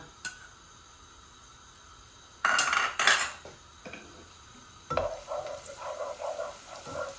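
A whole garlic clove goes into hot cooking oil amid clinking utensils and pan clatter, then settles into a steady, close crackling sizzle, with no talk.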